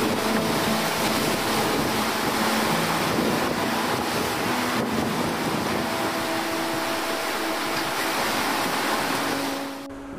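Open sea with about three-meter waves rushing and churning around a sailboat near Cape Agulhas, a continuous loud wash of water mixed with wind buffeting the microphone.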